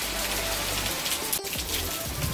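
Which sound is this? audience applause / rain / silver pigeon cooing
rain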